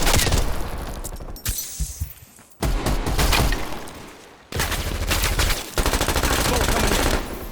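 Automatic gunfire from a Type 63 rifle in a Call of Duty: Black Ops Cold War team deathmatch, loud sustained bursts with short gaps and sharp cracks layered over game sound.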